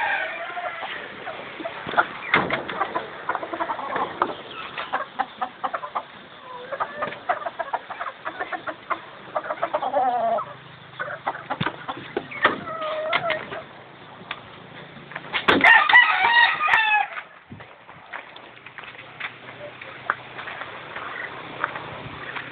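Hens cluck and chatter steadily in a noisy flock, with a louder burst of squawking midway and no talking.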